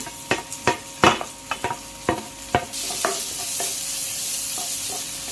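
Tomato and onion sautéing in a pan for egg curry, with a series of sharp spoon-against-pan stirring scrapes over a soft sizzle that swells into a steady louder hiss midway.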